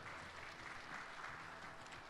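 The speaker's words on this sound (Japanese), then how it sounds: "どうぞ拍手" Audience applause at the 2013 J.League kickoff conference, a steady wash of clapping from a crowd, faint and distant, continuing evenly for a couple of seconds.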